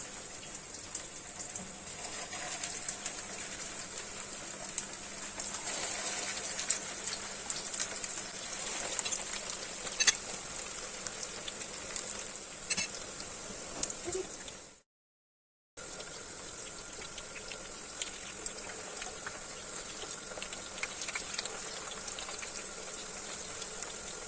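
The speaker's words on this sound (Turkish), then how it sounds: "Evet yağımız ısındı. Şimdi köftelerimizi tek tek koyuyoruz." Continuous hiss and crackle of hamburger meatballs frying in hot oil, dense popping spatters throughout, with a short silent break midway.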